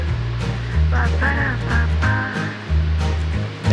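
A flock of ducks quacks in rapid, overlapping bursts nearby over a low background rumble.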